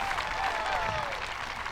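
A crowd at a women's disc golf event applauding after a play, a short burst of steady clapping heard from a modest distance.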